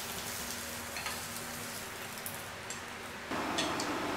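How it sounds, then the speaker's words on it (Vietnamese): Shiitake mushrooms stir-fry in oil with seasoning granules, giving a steady, fairly quiet sizzle with faint clicks of stirring, and the hiss grows louder near the end. "Mình xào cho nấm đông cô nó thơm ha."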